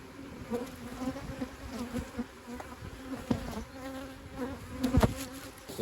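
Honeybees buzz steadily around an opened hive during a colony split, a continuous close drone with individual bees flitting past the microphone and a few louder passes.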